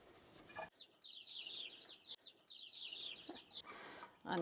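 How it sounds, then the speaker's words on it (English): Bright, rapid high-pitched chirping from several chicks in a barn, continuous and fairly close, with a few soft rustling bumps in between. "they make these adorable little chirp, chirp, chirping noises in there"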